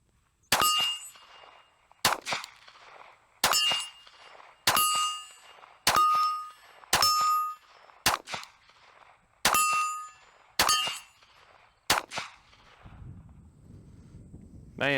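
Ten sharp .380 pistol shots from a Smith & Wesson Bodyguard 2.0 or Ruger LCP MAX, each followed by a ringing metallic clang off steel targets, spaced about a second apart at close range with no talking.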